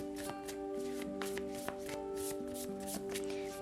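Tarot cards are shuffled by hand in a quick run of crisp riffling and flicking, close and steady, over soft background music.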